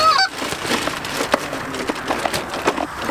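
Geese honk during a goose hunt: a sharp call at the start, then a jumble of overlapping honks and rustling clatter at moderate distance, with no talk.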